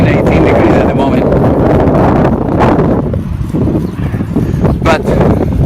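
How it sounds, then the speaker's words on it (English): Strong wind buffets the microphone while cycling on a vintage bicycle in Sardinia, Italy, a loud, steady roar that fills the whole clip, with gusts swelling and easing near the middle. "The wind, as you may hear, is pretty strong."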